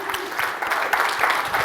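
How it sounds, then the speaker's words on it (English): An audience claps briefly after a presentation about an evolving business platform, giving a short, dense burst of hand claps from a moderately sized room. "Round of applause for Megan Espinosa and PowerPoint Queen"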